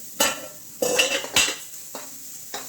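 Onions for pav bhaji are stirred in a metal pan, giving several sharp scraping clanks of a spoon against the pan with a soft sizzle between them, close and with no talking.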